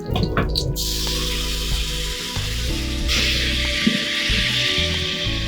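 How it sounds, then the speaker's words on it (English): Water poured into a hot pan to deglaze it after cooking pork for black-eyed peas and greens, giving a steady sizzle and hiss with a wooden spoon scraping, loud and close throughout. "I do wanna deglaze my pan here. So I have some water right here."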